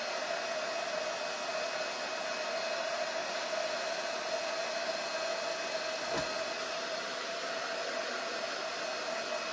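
A heat gun or hair dryer blows steadily across rice paper, drying it, a continuous close airy roar with a faint whine running unbroken throughout.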